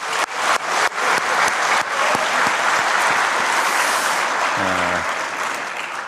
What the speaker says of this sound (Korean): 우선 감사의 박수 한번 드리겠습니다.